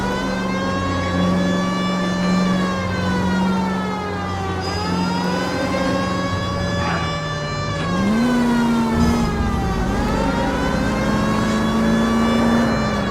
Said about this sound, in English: Turn the police siren on.